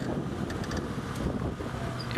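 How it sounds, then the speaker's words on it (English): Strong wind blows across an open safari landscape at sunset, buffeting the microphone with a low rumbling roar that stays loud and steady throughout, and no voices are heard. "it's become very, very windy"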